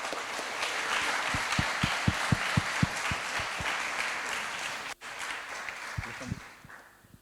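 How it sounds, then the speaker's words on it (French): Audience applause at the final of a student eloquence contest, a broad steady roar of many hands filling the hall, with a few sharper individual claps standing out, briefly dipping near the end before continuing. "je vous demanderai de les applaudir bien fort"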